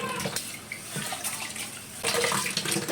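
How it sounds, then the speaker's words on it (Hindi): Rice being washed by hand in water gives close, continuous sloshing and splashing with running-water noise, growing louder toward the end. "चावल धो के चावल चढ़ाना है रात के"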